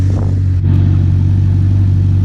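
An Audi R8 engine fitted with a new aftermarket exhaust idles steadily, a loud, deep, even rumble close by with no talking.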